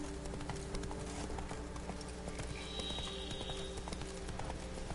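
A horse in The Witcher 3 trots on with continuous clip-clopping, its regular hoofbeats close and prominent over a dense game soundscape. A faint whinny-like tone surfaces briefly midway, and no one speaks.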